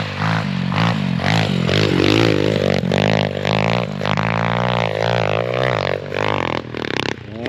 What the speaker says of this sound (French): La ligne FMF sur les dirt, les gars, c'est... Je l'ai acheté 200 balles, mais elle fait un son.